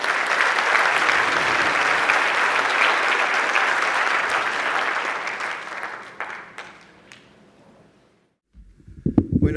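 Audience applause for a doctor introduced at a Spanish-language conference on psychoactive substance use, a dense, steady clapping that fades out after about six seconds before a few brief sounds.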